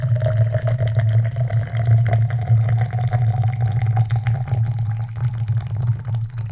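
Water poured from a kettle into a Wacaco Pipamoka portable coffee brewer, a steady close-up stream with a low resonant gurgle that holds evenly without a break.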